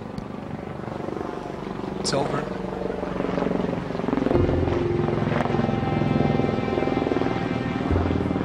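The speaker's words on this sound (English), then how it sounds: "There were helicopters hovering." Helicopters hover overhead with a continuous low rotor thrum and drone, steady and loud throughout, while people speak over it.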